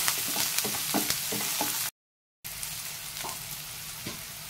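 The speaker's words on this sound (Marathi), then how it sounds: "कांदा चांगला परतून घेऊया" Chopped onion with green chillies sautés in a pan, with a constant loud sizzle and rhythmic stirring scrapes, interrupted by a brief dead gap before the frying resumes.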